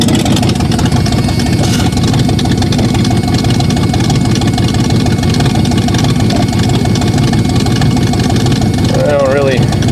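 A Ford Granada engine idles rough after a battery fix, still struggling with its fuel, giving a continuous low, throbbing rumble that holds steady and loud for the whole stretch.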